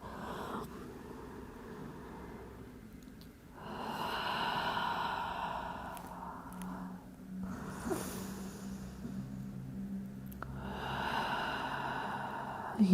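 Deep, slow breaths during a pilates stretch, lying face down with the forehead on the floor: three long audible inhale-exhale cycles close to the microphone in a quiet room, no talking.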